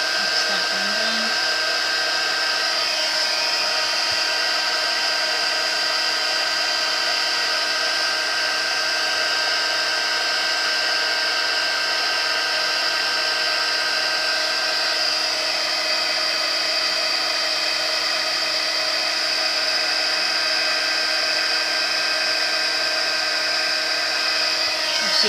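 A heat embossing tool blows a steady, loud whine with a broad airy hiss, running unbroken for the whole stretch while it melts embossing powder on layered card.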